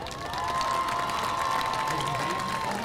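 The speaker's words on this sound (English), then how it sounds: "Let's give them one more round of applause." Crowd applause and cheering for a high school homecoming court at a football game, a steady wash of clapping and shouts with a sustained tone running through it.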